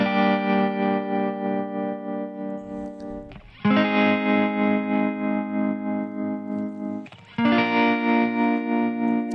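Isolated electric guitar stem from a multitrack of a Christmas song, distorted sustained notes with wide wobbling vibrato, three long held phrases separated by short pick attacks, loud and up front.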